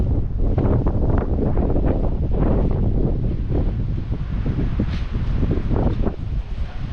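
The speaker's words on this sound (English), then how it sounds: "There's actually a lot of wind coming out of that tunnel." Strong wind blowing out of a tunnel at the Pompeii ruins, loud continuous buffeting rumble against the microphone with gusty surges, close.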